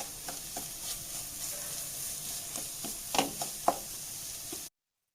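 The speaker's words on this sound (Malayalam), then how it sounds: "ഇതെല്ലാനും കൂടി ഒന്ന് വഴന്നായി മൂത്തൊരു മണം വരട്ടെ" Chili powder and spices sauté in oil in a pan for a Kerala-style beef curry, with a soft steady sizzle and occasional light scrapes and knocks of a stirring spoon.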